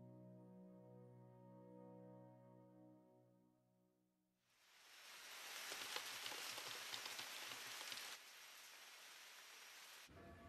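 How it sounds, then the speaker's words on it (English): Rain suddenly sets in after a soft held musical tone fades, a steady hiss of heavy rain on surfaces that drops slightly in level, then cuts off abruptly at the end. "Might as well, since it's raining"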